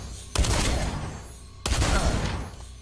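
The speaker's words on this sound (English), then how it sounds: "now we got this shotgun. It's called the shotgun." Two loud shotgun blasts in a video game, each a sharp boom followed by a decaying roar, spaced over a second apart with no talk between them.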